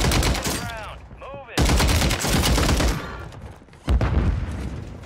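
Loud, sustained MTZ rifle fire in Call of Duty, close and dense bursts separated by short pauses, with brief chirpy game sounds between volleys.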